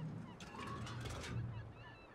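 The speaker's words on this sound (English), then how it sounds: "That seagull's loud, isn't it?" Loud, harsh seagull calls in a video game, several in quick succession, over a steady low hum and background noise.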